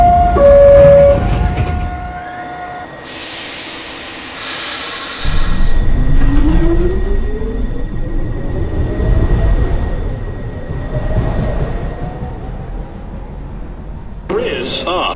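An R142 train on the New York subway 1 line pulls into a station, its rising motor whine and rumble building loudly and steadily as the automated announcement voice speaks over it, with chimes near the start.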